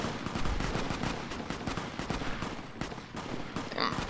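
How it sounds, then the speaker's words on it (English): Distant, continuous crackle of gunfire in Fallout New Vegas, rapid overlapping shots rolling on steadily at moderate volume with no talking. "Lots of shooting going on somewhere."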